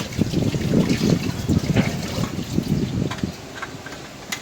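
Large cucumbers are washed in water, with close, busy sloshing and splashing in irregular bursts that calm toward the end, no speech heard.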